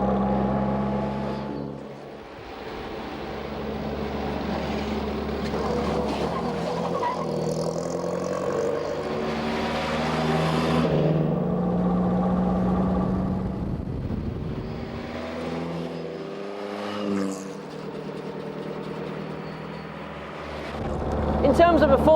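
Low-revving engine of a 1928 classic car pulling along at steady, moderate volume, with a deep, continuous drone and wind rush throughout, under someone talking.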